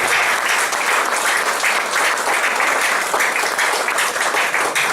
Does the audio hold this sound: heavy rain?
no